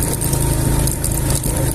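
A motorcycle engine runs while riding a badly broken mountain road toward Kumrat valley, giving a loud, steady throbbing rumble with constant rough noise throughout.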